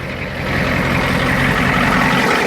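A 1986 Ford F250 IDI diesel engine with a turbo runs steadily at close range, a loud, even rumble with no turbo whistle standing out.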